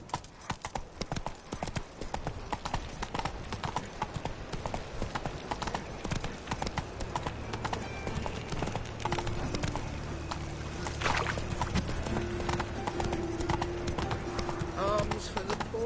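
Roach the horse clip-clops at a steady gallop across the streets of Novigrad in The Witcher 3, the hoofbeats close and continuous beneath talking voices and background game sound.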